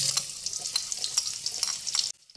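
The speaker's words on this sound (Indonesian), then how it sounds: "Selanjutnya, siapkan minyak secukupnya, goreng bawang merahnya." Sliced shallots frying in a shallow pan of oil give a steady, crackling sizzle with stirring scrapes, close and fairly loud, then stop abruptly near the end.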